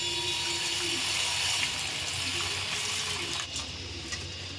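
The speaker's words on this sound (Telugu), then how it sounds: "పప్పు కూడా బాగా శుభ్రంగా కడుక్కోవాలండి." Moong dal being washed in water, with continuous running and splashing water close by and a brief clatter near the end, no talking.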